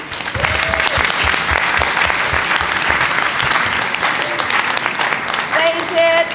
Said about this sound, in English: let's clap up our panelists